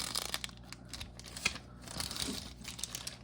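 A plastic bag sheath crinkles and rustles while a spring and barrel are replaced on a blaster, the close, uneven crackling running through the whole stretch with a few sharper bursts and no talking.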